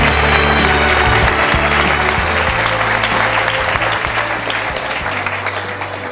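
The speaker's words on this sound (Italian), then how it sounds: "E credo che questa notizia meriti un buon applauso." Sustained applause from a crowd fills the whole stretch, dense and loud, tapering slightly toward the end.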